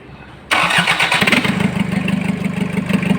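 A diesel Kia Sportage Rt with a freshly repaired turbo and recalibrated injectors and injection pump cranks and catches abruptly after a quiet moment, then settles into a loud, rough, steady clatter at close range.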